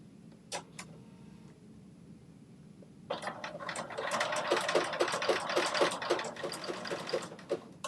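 A sewing machine runs a zigzag stitch across a fabric seam. After a few quiet seconds with a couple of brief clicks, it breaks into loud, rapid, steady stitching that continues to the end.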